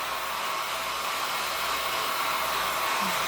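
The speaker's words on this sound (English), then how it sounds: "You can use a hair dryer on low" A hair dryer on its low setting blows steadily at close range, a constant airy whir without pauses or voices.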